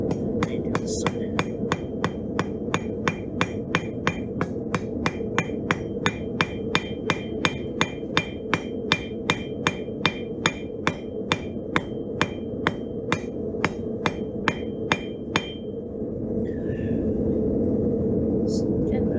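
Steady, rapid hammer blows ring out as a blacksmith forges hot steel into a leaf, dozens of sharp metallic strikes in even rhythm over a continuous low rumble, stopping near the end.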